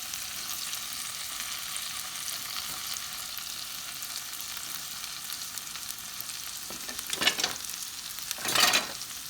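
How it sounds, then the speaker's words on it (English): Ground sausage frying in a pan gives a steady, soft sizzle throughout, with a couple of louder bursts of crackle near the end as it is moved around; no voices. "I'm going to go ahead and put my ground sausage in here"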